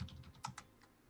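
Fingers tap on a computer keyboard in a short, quiet run of a handful of uneven clicks with a slightly louder keystroke in the middle.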